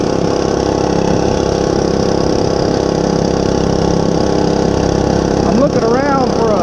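A Monster Moto 105 mini bike engine idles steadily and loudly throughout, a close, continuous buzzing drone with a brief whine near the end.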